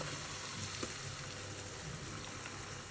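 Steady hiss and sizzle of tomato sauce for borscht bubbling over low heat in a pan, with a brief scrape of a spoon stirring near the start.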